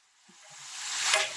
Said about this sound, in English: I think the 2 minutes starts when it sizzles.